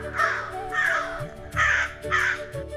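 A crow in a city garden caws loudly four times in a steady, evenly spaced series of harsh, close calls with nothing else around them.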